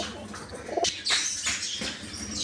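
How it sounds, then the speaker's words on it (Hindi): Malwai pigeons, young birds with blue legs: soft chirps and rustling wing flutters close by over a steady background murmur, with no talking. "लैके आए हां मलवई कबूतर, सारे ऐतकी दे पट्ठे ने जी"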